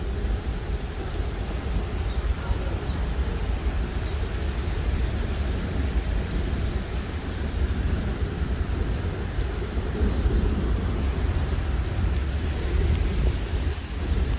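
A severe thunderstorm over Montreal produces a steady, dense wash of heavy rain with low rumbling thunder underneath, continuous and fairly loud throughout.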